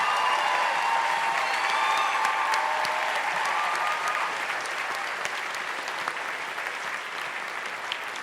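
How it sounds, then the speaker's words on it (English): A commencement-ceremony audience gives a sustained round of applause for the supporters of graduate students, dense clapping holding steady and then tapering slightly toward the end, with no talk over it. "give them a round of applause for their help and support"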